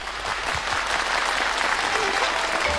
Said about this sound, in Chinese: 我们把今晚最最热情的掌声送给陶琪